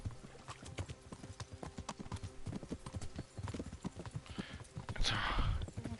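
Rapid horse hooves clip-clop in a quick galloping rhythm in Kingdom Come: Deliverance, close and continuous, with a brief burst of rushing noise near the end.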